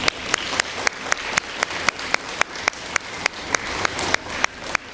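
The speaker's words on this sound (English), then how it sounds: "give a big round of applause for yourself" Applause at a D.A.R.E. graduation held at a police department, heard as a fairly quiet, steady run of sharp, evenly spaced claps, almost like rhythmic unison clapping, continuing throughout without talk.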